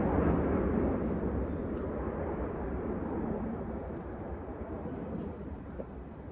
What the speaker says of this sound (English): I think that was the sound of a fighter jet.